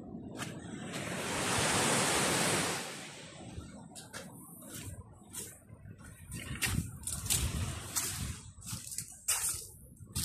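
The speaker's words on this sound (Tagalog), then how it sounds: "Napakaganda ng karagatan." Waves break on a seashore, a loud surging wash building and fading at the start, followed by gusty, uneven surf and wind noise.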